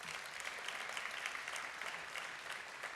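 Audience at a fatherhood summit at Merritt College applauds, a dense, steady patter of many hands clapping at once, moderately distant and sustained throughout without talk.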